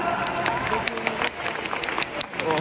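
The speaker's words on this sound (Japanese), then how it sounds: "めっちゃ拍手出てる" A stadium crowd applauds at a J2 League football match at Denka Big Swan Stadium, Albirex Niigata against FC Machida Zelvia, a broad wash of clapping and crowd noise with voices nearby.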